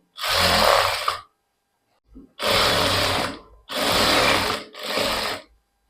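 Sewing machine stitching elastic onto palazzo pants in four loud, close bursts separated by short pauses, each a steady whirring run of stitches, with no speech.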